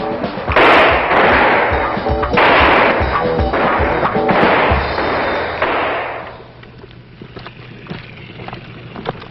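Rifles fire on a Marine firing range: heavy, overlapping booming shots in quick succession for several seconds, then trailing off to quieter scattered reports.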